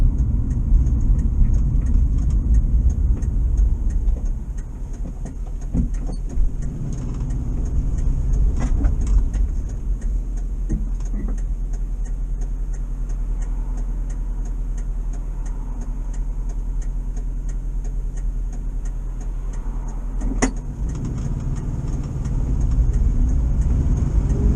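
A VW T2 camper van with a fuel starvation problem drives along, its engine droning low and steady inside the cabin, rising in revs toward the end, with faint ticking and a few clicks.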